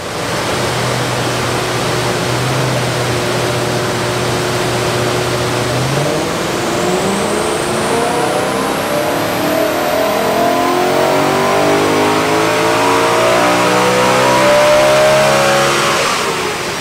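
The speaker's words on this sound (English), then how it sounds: "So we've just dynoed the car." A BMW E92 M3 with its stock airbox revs hard on a dyno, the engine note climbing steadily in a long, loud pull that rises in pitch before easing off at the end.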